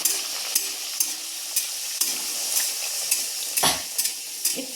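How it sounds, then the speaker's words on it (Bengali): Pea kachori frying in hot oil in a wok, a steady bright sizzle broken by sharp bursts and clinks as hot oil is splashed over the puffing dough balls. "আমি যে কচুরি বানিয়ে রেখেছিলাম সেটা আমি ছেড়ে দেখাচ্ছি তেলের মধ্যে"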